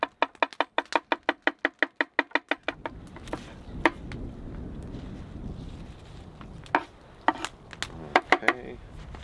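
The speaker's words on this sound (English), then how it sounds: "So I'm gonna start cutting up the garlic" A knife chops and minces garlic on a board at a campsite. A quick run of evenly spaced sharp chops gives way to slower, irregular cuts over a crackling fire and outdoor background noise.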